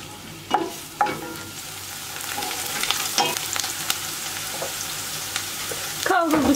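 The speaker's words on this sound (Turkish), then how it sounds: "Soğan ve biberleri hafif rengi değişene kadar kavuruyorum." Onions and chopped green peppers sautéing in butter and oil in a pot give a steady close sizzle, with a few sharp utensil clinks and stirring scrapes and a brief louder clatter near the end.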